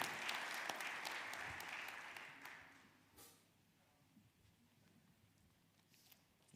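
Applause for the musicians at a country mass in a church, fairly quiet, swelling briefly then fading out after about three seconds into room quiet with a few soft thumps.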